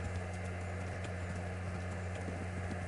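Horse hooves clip-clop faintly and steadily in the video game Kingdom Come: Deliverance, set against a low constant hum with no one talking.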